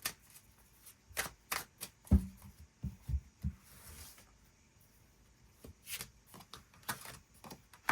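Tarot cards shuffled by hand in quick irregular bursts of papery riffles and soft slaps, close and fairly quiet, with no voices.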